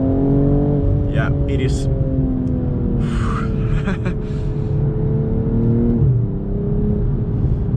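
BMW M240i xDrive engine pulling hard under acceleration, a steady close in-cabin drone with a slight pitch shift near the end, while people talk briefly over it.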